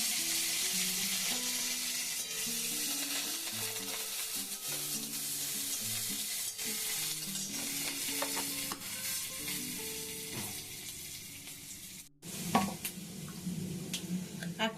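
Dry chili and mustard seeds crackle and sizzle steadily in hot oil while a jute-leaf curry is being cooked, a soft, continuous frying hiss with scattered pops, fairly quiet and without voices.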